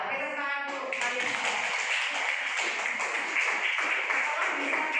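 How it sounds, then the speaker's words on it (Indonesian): A class of students clapping hands together in a sustained, dense patter, fairly loud and steady, with a brief voice at the start. "Oke, tepuk tangan dulu kalian."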